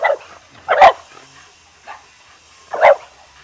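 A dog gives a few sharp, loud barks spaced out over a few seconds, close by, with quieter yips between them and no talk.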